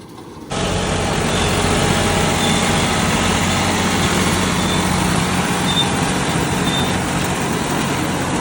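A tractor engine under load pulls a rotavator super seeder while sowing wheat, its loud, steady rumble kicking in abruptly and droning on close by with no talk.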